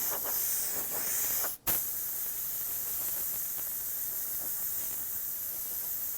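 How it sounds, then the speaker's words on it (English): A continuous airy hiss of a paint spray gun spraying candy red paint runs throughout, broken once by a brief pause near the start before the spraying resumes steadily. "Let's go ahead and spray this color down."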